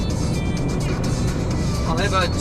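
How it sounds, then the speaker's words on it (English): A truck passes on a road as a loud, steady broadband rumble that swells slightly near the end, while a voice talks over it. "There goes a truck."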